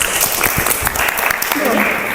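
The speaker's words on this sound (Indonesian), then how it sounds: "Ya, tepuk tangan." A crowd claps together in a short burst of applause, steady and fairly loud, with some voices mixed in.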